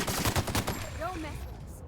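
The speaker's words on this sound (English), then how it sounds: "This gun does crazy damage." Rapid automatic gunfire from a weapon in The Outer Worlds, a loud burst of close, quick shots that stops abruptly, followed by a voice talking.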